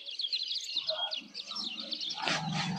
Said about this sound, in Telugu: ఒక 4 పిట్టలు వచ్చినాయి